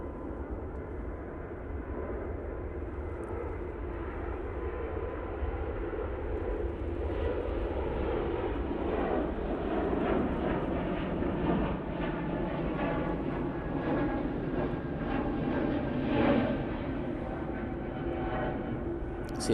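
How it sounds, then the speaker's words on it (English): Air France A380 airliner departing Manchester Airport, a broad, steady jet roar heard from a distance that swells and rumbles gradually over about twenty seconds, with no talk. "Air France A380 now returning to Paris Charles de Gaulle Airport."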